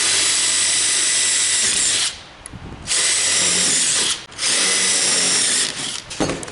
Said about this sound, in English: what I'm going to do is I'm just going to drill 3 or 4 holes right here